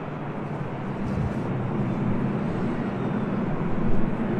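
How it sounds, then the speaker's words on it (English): A Boeing 777-300ER on flight 769 from Shenzhen arriving at an airport, a broad, steady jet roar heard from a distance that swells slightly toward the end. "Flight 769 coming in from Shenzhen at 777-300ER."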